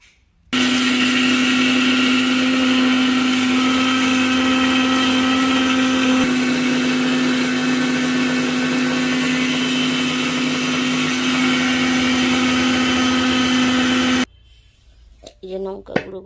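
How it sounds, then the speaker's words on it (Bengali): A kitchen mixer grinder blends dried red chillies into powder, roaring loud and steady for about fourteen seconds with a strong motor whine, then cuts off abruptly, leaving quiet room sounds and a few light knocks. "এবারে সমস্তগুলো মিক্সিতে আমি গুঁড়ো করব।"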